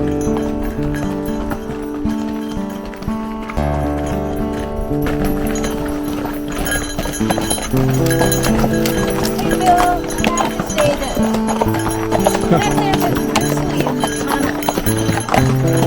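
Horses' hooves clip-clop steadily on a trail ride in Montana's Glacier National Park, a close rhythmic clatter of several animals with people talking over it and music playing underneath.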